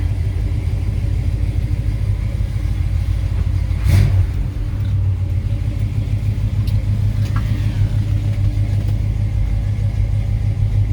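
A 1955 Chevrolet 210 post car with a 454 V8 idles with a steady, loud low rumble throughout, swelling briefly in one short rev partway through.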